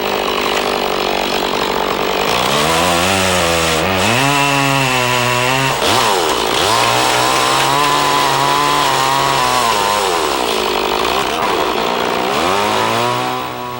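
Chainsaw cutting a round saddle notch in a cabin log, loud and close, the engine bogging and revving as it bites into the wood in repeated sweeping cuts.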